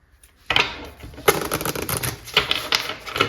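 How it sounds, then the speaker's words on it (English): Crisp, papery riffling of a tarot card deck being shuffled close by, in several quick bursts with brief pauses, and no talking. "So I am going to give them a quick shuffle."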